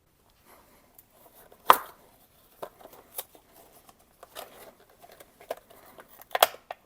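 Packaging for a Kia Sorento H7 headlight bulb is opened with sharp crinkles and snaps, two louder rips standing out among scattered small rustles in a quiet room.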